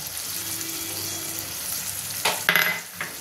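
Ground spices, turmeric, chilli, cumin and coriander powder, with whole green chillies, sizzle steadily in a pan for ghugni, a continuous frying hiss joined near the end by a few louder scraping stirs.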